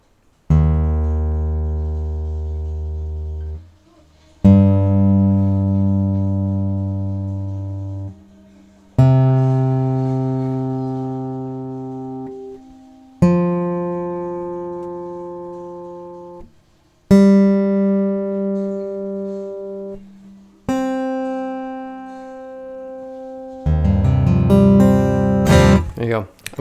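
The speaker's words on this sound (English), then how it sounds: "But I'll play each string open right now so you can tune to my guitar" Six open guitar strings plucked one at a time from lowest to highest for tuning, each ringing out and decaying for several seconds before the next, the last note cut short by a quick strum.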